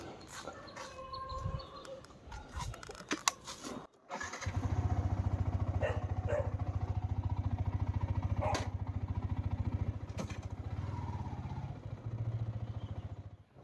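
A Yamaha R15 V3 sports motorcycle starts and settles into a loud, steady idle nearby, its engine rumbling on after a few clattery knocks and a dog barking earlier in the clip.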